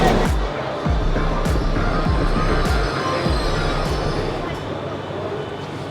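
A regional train pulls into a station, its wheels squealing and low rumbling clunks repeating steadily over loud continuous rail noise close by, with some talk in the background.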